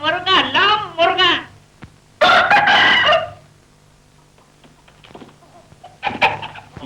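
A rooster crows once loudly in a film scene, a long harsh call between stretches of people talking, with further voices afterwards.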